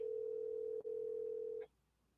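A single steady telephone tone on an outgoing call, held for about a second and a half with one short break, then cutting off, with no voices over it.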